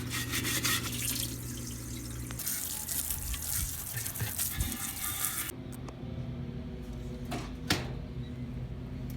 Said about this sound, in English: I get all the silicone off these.